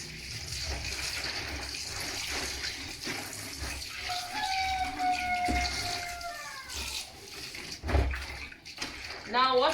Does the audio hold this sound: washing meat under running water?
yes